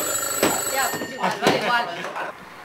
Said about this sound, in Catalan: està sonant el telèfon roig